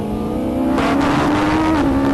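Ariel Atom V8, two motorcycle engines joined at the crank, driven at the Nurburgring: a loud, continuous droning induction and engine note, steady and close, with pitch wavering slightly as it holds revs.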